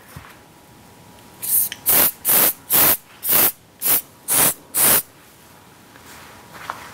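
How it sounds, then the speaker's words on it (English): Theory hair spray from an aerosol can, eight short hissing puffs in a quick regular rhythm, close and loud, with quiet surroundings before and after. "I'm going to go ahead and finish with Theory spray."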